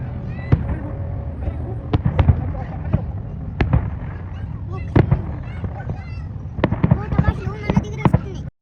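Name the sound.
fireworks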